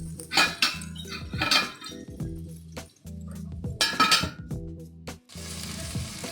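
Potato and cauliflower pieces frying in a covered pan while a spoon stirs them, giving bursts of sizzling and metallic clinks against the pan, close and moderately loud, with a brief wash of steady frying at the end.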